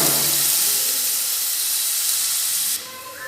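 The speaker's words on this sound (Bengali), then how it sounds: "পেঁয়াজটা একটু হালকা করে ভেজে নেব" Onions lightly frying in a pan for a Bengali breakfast dish, giving a steady, loud broadband sizzle and hiss that runs throughout and drops in level near the end, with no talking.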